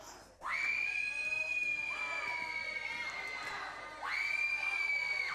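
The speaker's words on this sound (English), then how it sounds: "Folks, you can hear someone screaming in the background." A sustained high-pitched scream rises out of a noisy crowd at a girls' high school basketball game, holds for several seconds, breaks briefly, then starts again just as loud.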